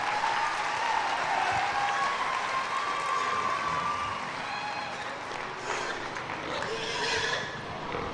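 Broad crowd applause at a youth fair livestock show, steady and sustained throughout, with cheering voices and a horse whinnying high above the clapping.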